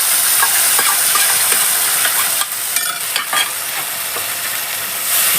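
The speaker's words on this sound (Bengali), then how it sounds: "আগে মশলাটা যে পেস্ট করে রেখেছিলাম আমি দিয়ে দিচ্ছি" Spice paste fries in hot oil and is stirred in the pan, giving a close, continuous sizzle broken by several scraping strokes of the spoon, with no voices.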